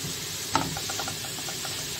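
A medium onion, hand-sliced, frying in a small amount of oil in a pan for a meat dish: a steady, close hiss and sizzle with a soft clink near the start, and no talking.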